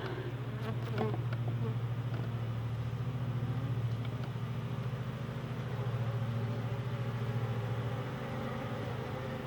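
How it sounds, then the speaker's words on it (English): Package honeybees in a hive box make a dense, steady buzzing hum, close and continuous throughout, with a few faint clicks near the start. "Got a bunch of bees in there."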